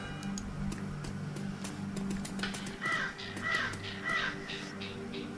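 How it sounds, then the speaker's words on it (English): A crow caws inside the video game Shadowrun Returns, three harsh calls in quick succession over a steady low ambient game soundscape with faint ticking. "Spooky bird."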